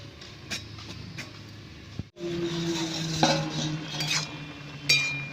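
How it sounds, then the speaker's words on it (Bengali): A metal lid clanks down over a pot of bottle gourd greens cooking on the stove, one sharp clink followed by a steady simmering hiss and a few light metallic taps. "আমি এবার লাউ শাকটা ঢাকা দিয়ে দেব"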